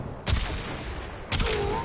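Two loud bursts of rapid Quartakk rifle fire in Warframe, each a dense cluster of shots separated by a short pause, close and punchy with no speech over them.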